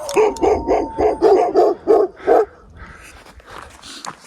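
Dogs barking on a mountain trek in the Peruvian Andes, a run of about eight loud, close barks in quick rhythm, then quieter yips and scuffling.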